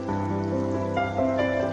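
Onion dropped into hot oil already seasoned with black cumin, giving a steady, close sizzle that crackles throughout a short stretch of stovetop cooking.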